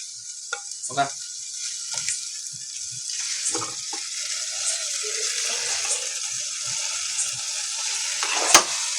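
Two kilograms of chicken cooking with spices in a pan, giving a steady, fairly loud sizzle and hiss throughout, with brief clinks and stirring knocks over it and a sharp clatter near the end.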